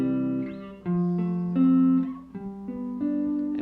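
A clean guitar plays major chords, each strummed and left ringing, several changes in a row with short gaps between them, moderately loud and alone without talking.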